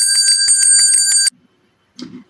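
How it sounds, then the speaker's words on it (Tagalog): A handheld bell rings in a fast, bright repeated trill for about a second and a half in a music class, loud and alone, then stops abruptly, followed by a brief murmur. "ano kaya ang tunog ng bell?"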